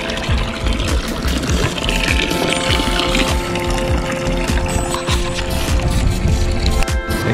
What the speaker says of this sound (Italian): fontana.